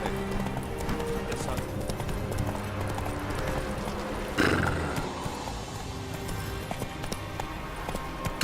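Roach, a horse in The Witcher 3, gallops with steady hoofbeat clip-clop under game music and ambient sound, with a brief louder burst midway and faint speech in the mix.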